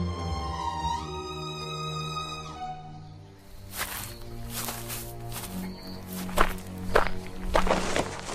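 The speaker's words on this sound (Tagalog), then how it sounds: "Narinig mo ba yun? May mga yapak tayong kasabay." Footsteps walking through a forest: a sequence of soft, irregular thuds and crunches, fairly close, following a passage of sustained tonal music, with no talk.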